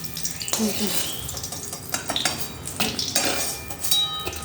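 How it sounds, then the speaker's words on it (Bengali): Metal utensil scraping and clinking against a pan while lifting out fried pointed gourd, with a faint sizzle in the background, close and intermittent. "পটল ভাজাটা তুলে নিচ্ছি।"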